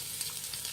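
Green beans, carrot, capsicum, green chillies and garlic fry in hot oil for hotel-style egg fried rice, giving a brief, soft, steady sizzling hiss close by.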